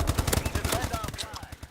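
KP5 submachine gun firing in Advanced Warfare, a rapid, steady burst of automatic shots heard up close, with faint game sounds behind it.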